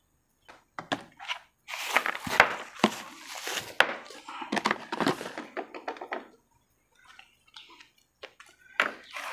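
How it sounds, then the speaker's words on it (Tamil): An air conditioner capacitor being broken open by hand, a series of close, sharp knocks, cracks and scraping clatters in uneven bursts, with quieter gaps and a few scattered taps toward the end. "சரி, நம்ம இன்னொன்றை உடைச்சி பார்ப்போம் எப்படி வருதுன்ட்டு."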